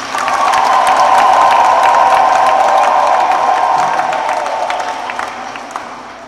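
A church congregation at a Jubilee 2025 Mass raises a sustained, loud chorus of high trilling ululation with crowd noise, continuous for several seconds and slowly fading.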